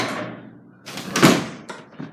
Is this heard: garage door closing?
yes